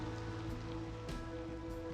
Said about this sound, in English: Just an absolute shit ton of rain.